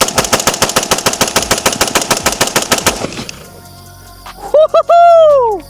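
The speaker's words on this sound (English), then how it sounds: "We did shoot a full mag through it and had no issues." A rifle with no suppressor fires a full magazine in a fast, evenly spaced string of loud shots lasting about three seconds. Ringing follows, then a whooping voice.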